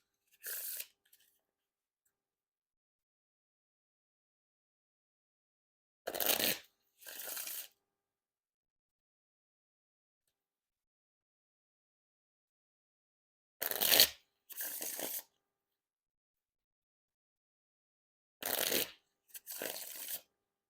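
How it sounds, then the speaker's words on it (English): Dan and Dave playing cards get riffle and bridge shuffled, four separate bursts of fluttering card riffles, each followed by a softer cascading bridge, close and crisp with dead silence between rounds. "And now time for the Riffle Shuffle or Bridge Shuffle"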